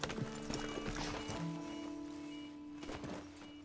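Horse hooves in Red Dead Redemption 2, a soft clip-clop of footfalls layered over the game's ambient background, faint and fairly distant with no talk.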